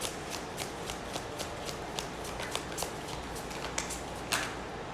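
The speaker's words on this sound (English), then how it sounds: "Let me get one more card." Tarot cards being shuffled by hand, giving a steady, rapid riffle of soft card flicks close to the mic, with a slightly louder snap near the end. No voice is heard.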